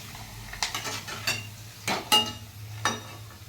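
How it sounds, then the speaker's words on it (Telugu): Urad dal papads frying in hot oil: a low continuous sizzle with a handful of soft scraping clinks from a utensil against the pan, close and fairly quiet, without talking. "ఇంకా పడాలు వేసుకోవాలి వేసుకొని మంచిగా కాల్చుకోవాలి"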